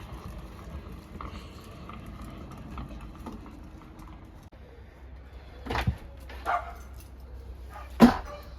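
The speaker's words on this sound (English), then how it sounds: "There's Hamish barking because he thinks we've left him." A dog barks a few times in the distance near a narrowboat, short sharp bursts near the end over a quiet background hum.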